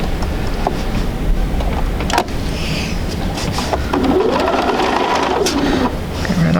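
A sewing machine stitches a brush-stroke quilt piece onto a square for a sampler quilt block at a quarter-inch seam, giving a steady, continuous mechanical whir that runs close and loud throughout.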